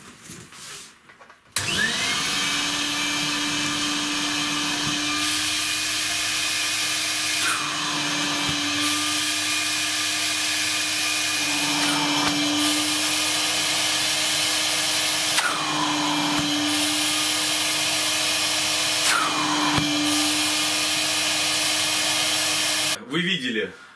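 A homemade cyclone separator driven by a vacuum cleaner roars loud and steady for about twenty seconds. Its tone dips and swells several times as the airflow changes, then the motor cuts off abruptly at the end.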